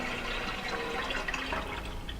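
In the Grim Fandango video game, water drains into a floor tile as a steady, moderately quiet rushing and splashing flow with no gaps, alone without talk.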